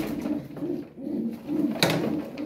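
A racing pigeon coos in a soft, repeated low rhythm, about four throaty phrases close by, with a brief click partway through and no talking.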